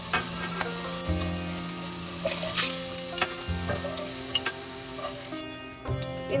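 Potatoes frying in oil in a pan for a Bengali dhokar dalna, a continuous sizzle with periodic scraping and tapping stirs, moderately quiet and free of talk.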